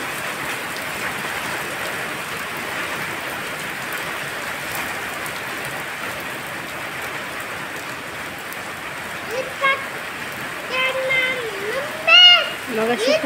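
Heavy rain falls in a steady broadband wash during a thunderstorm, continuous and close throughout, with a few bird or voice-like calls surfacing near the end.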